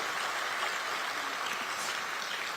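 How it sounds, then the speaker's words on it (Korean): Audience applause fills a party political gathering in Gyeonggi Province, a steady wash of many hands clapping at once with no break, fairly distant and even throughout. "여러분 자축하는 의미로 박수 한번 보내주시죠."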